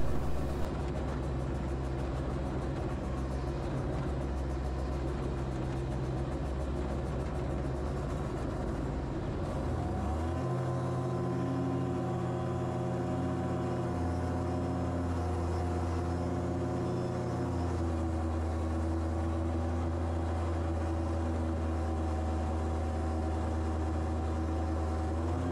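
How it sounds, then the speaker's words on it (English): An MW9 Plank model aircraft engine, heard from on board, drones steadily during a low-level pass down a runway, its tone shifting and settling into a lower, even pitch partway through. "Low-level pass down the runway for Tony's camera."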